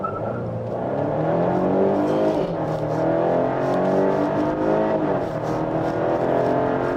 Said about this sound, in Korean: (250마력의) 힘을 바탕으로 아주 야무지게 가속을 이어가고 있고요